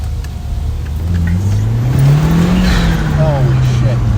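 An 034Motorsport-tuned 2.0T car engine pulls hard under acceleration, its tone climbing steadily and loud from inside the cabin, with a voice speaking briefly over it.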